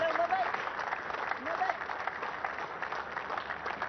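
Crowd applause at a Pakistan vs South Africa Test cricket match as AB de Villiers equals the record, steady distant clapping throughout beneath a commentator talking.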